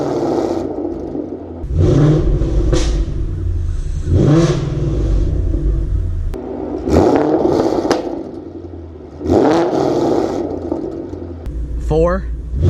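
A car with a very loud aftermarket exhaust revs repeatedly in strong bursts, each roar climbing and falling back toward idle, with a person talking between the revs.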